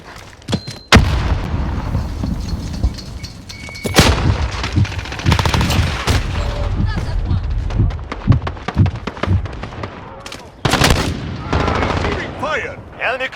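A Sykov automatic pistol and an MP5 fire in bursts in a first-person shooter game. The loud rapid volleys are separated by short pauses, with game voice callouts and other battle sounds around them.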